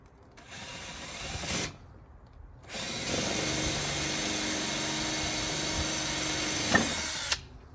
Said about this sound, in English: I'm just gonna drill a big hole there